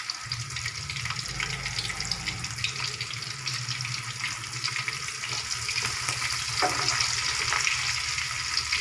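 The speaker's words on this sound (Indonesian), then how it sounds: "Terus aku mau goreng ininya, apa namanya, bawang merah, bawang putih." Shallots and garlic fry in a pan at home, a steady close sizzle with bright crackling spitting throughout and a faint low hum underneath, growing slightly louder toward the end.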